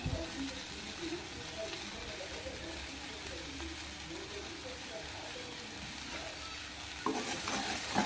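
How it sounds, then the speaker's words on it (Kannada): Grated coconut frying with beans and potato in a pan gives a steady, even sizzle with soft stirring scrapes, fairly quiet and close, and a brief louder clatter near the end. "ಅದು ಕೂಡ ಹಾಕೊಂಡು ನೀಟಾಗಿ ನೀವು ಫ್ರೈ ಮಾಡ್ಕೊಳ್ಳಿ"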